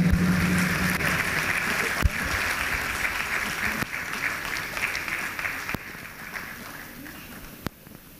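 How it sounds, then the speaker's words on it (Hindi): Sustained audience applause fills a Sufi music concert hall, dense and steady throughout with scattered sharper claps, tapering slightly toward the end. "जोरदार तालियां प्लीज."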